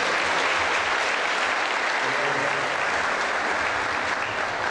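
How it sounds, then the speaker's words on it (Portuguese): A round of applause from an audience at a book launch ceremony, dense and steady throughout, loud and close with no break. "Uma salva de palmas aí."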